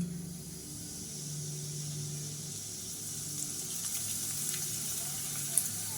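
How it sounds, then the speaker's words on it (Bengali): Flattened rice (chira) fries in hot oil for masala chira, a steady, close sizzle and hiss that holds evenly throughout with a few faint crackles. "ঠিক এরকমভাবে আমি চিড়েগুলো ভেজে নেবো"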